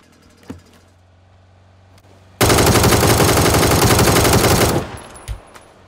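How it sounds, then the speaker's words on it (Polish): Sustained automatic gunfire in the video game PUBG, a loud continuous burst lasting over two seconds after a quiet stretch with a single shot, then cutting off abruptly with a few faint trailing sounds. "Leci strzał."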